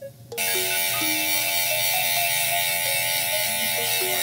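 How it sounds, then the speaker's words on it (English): An electric shaver switches on and hums loudly and steadily close by while cutting hair, with a constant buzzing tone and faint rattling, no talking. "Now I can use the electric shaver on that."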